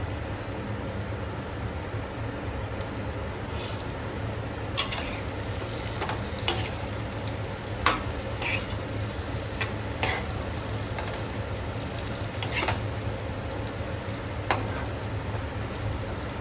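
Eggplant frying in a pan with red chili powder and coriander powder, a steady sizzle under repeated scraping stirs, with no talk.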